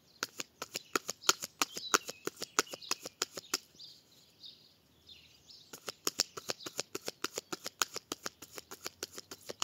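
A Light Seer Tarot deck is cut and shuffled, giving rapid crisp riffling bursts of card flutter and snaps, a brief pause in the middle, then a second quick run, close and fairly loud with no talking.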